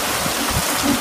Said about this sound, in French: Et en plus, c'est de la belle grêle. Ça tombe sans arrêt.